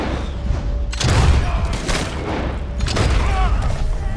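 Shotgun blasts in the video game Red Dead Redemption 2, two or three heavy booming shots a second or so apart over a loud game soundscape.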